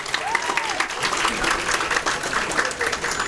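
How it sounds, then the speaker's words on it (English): A crowd at a college freshers orientation day applauds a team with loud, sustained clapping, and a few cheering voices rise over it. "A round of applause for my team,"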